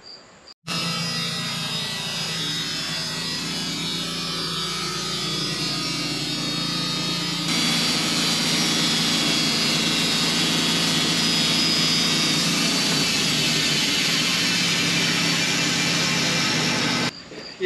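A sawmill cuts a timber beam with a loud, steady mechanical whine and roar that starts abruptly, grows louder and denser partway through, then cuts off at the end.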